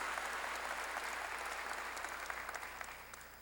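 A Korean church congregation applauds during a sermon by Pastor C.S. Lee, with a thick, loud roar of many hands clapping at once that thins slightly toward the end, and no speech over it.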